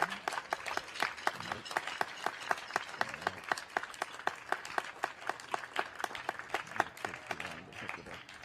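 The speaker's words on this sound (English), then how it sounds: "let's give the students a round of applause for making it this far" Audience applause for students at a high school year-end celebration before a symphonic winds and percussion concert, a dense steady patter of many hands clapping close by, sustained evenly throughout without pause.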